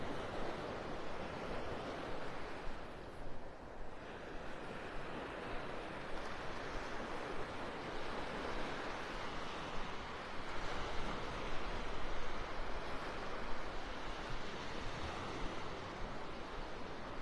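Surf rolling onto the sand at Delnor-Wiggins beach in North Naples, Florida, a steady broadband wash of breaking waves with some wind buffeting the microphone, no voices.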